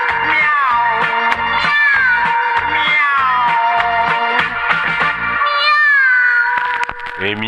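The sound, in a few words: singers imitating cat meows in a children's song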